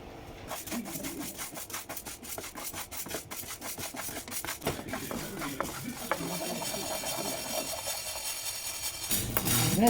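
Urad dal dry-roasting in a pan for thattai, stirred with a spatula that makes continuous close scraping and rubbing sounds with scattered clinks against the pan.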